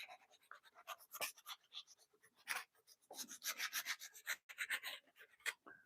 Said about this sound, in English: sand it with a low grit sandpaper